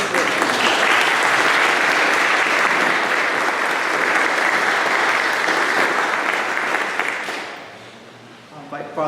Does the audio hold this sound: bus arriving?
no